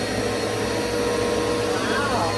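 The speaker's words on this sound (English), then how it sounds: "It's not as loud as the old one. It doesn't feel as strong as my old vacuum." New vacuum cleaner running steadily on the floor, a continuous whirring motor drone at moderate loudness with no breaks.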